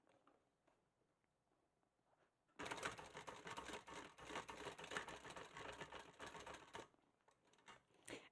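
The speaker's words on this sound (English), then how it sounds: "So I'm going to go ahead and baste these in place." A sewing machine bastes fabric pieces in place an eighth of an inch from the edge, running in one steady, fast, close burst of stitching for about four seconds after a quiet start, then stopping.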